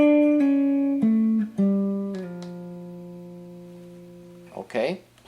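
Electric guitar plays a verse passage, a short run of sustained single notes with slides between them, ringing out and fading, followed by a brief voice at the end.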